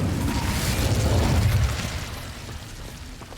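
Incendio fire spell blast in Hogwarts Legacy, a single loud, close roaring burst with heavy low rumble that peaks early and then fades away.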